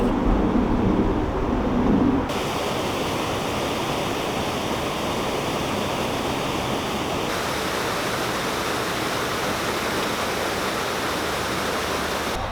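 Water rushes steadily through a canal lock on a narrowboat route, a loud, continuous broadband roar that holds at the same level throughout with no pauses.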